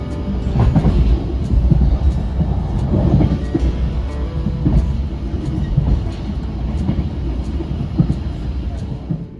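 Kutojaya passenger train rolling at around 80 km/h, heard from inside the carriage: a loud continuous rumble with regular clickety-clack wheel beats on the rails.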